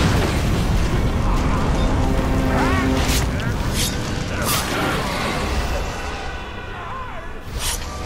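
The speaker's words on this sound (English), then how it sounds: "Explosions! Stay on your guard!" Explosions in the action game Middle-earth: Shadow of Mordor come as several sharp booming bursts amid loud battle noise, with voices shouting over the fight.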